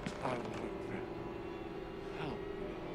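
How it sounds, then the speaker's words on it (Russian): Creaking door opening behind the player in the horror game Outlast: Whistleblower, a drawn-out mechanical creak with a second creaking sweep later, fairly quiet over a low ambient hum. "А за моей спиной открылась дверь?"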